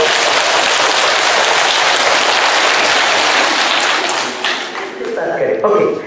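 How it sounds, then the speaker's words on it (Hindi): Loud, dense applause from an audience at a spiritual talk in a Darjeeling hall, sustained for several seconds before thinning out near the end as talking resumes. "जोर से तालियां बजाइए"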